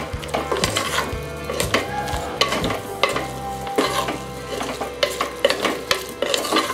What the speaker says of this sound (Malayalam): എന്നിട്ട് നന്നായിട്ട് മിക്സ് ചെയ്യാം.